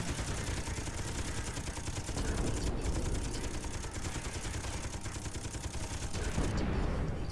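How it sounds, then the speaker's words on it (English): Sci-fi gunfire in the space combat game Miner Wars 2081, a dense, continuous stream of rapid shots with a thick low rumble, steady and fairly loud throughout with no talk over it. "Someone's shooting at me."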